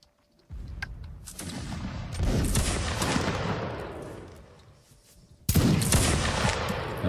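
Two musket volleys in the Napoleonic Linebattle game, each a sudden ragged crash of many shots that rolls on and slowly fades, the second sharper and louder, with little talk.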